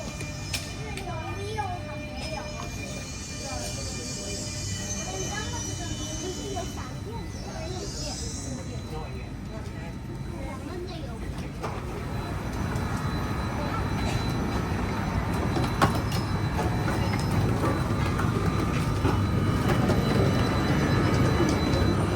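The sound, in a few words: metro train arriving and riding in Kuala Lumpur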